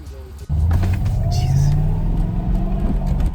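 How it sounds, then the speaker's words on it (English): A Lexus SC400 converted to a five-speed manual pulls away on a test drive, its engine rumbling loud and close and rising in pitch as it accelerates, with brief talk underneath. "Then we finally went for a short test drive."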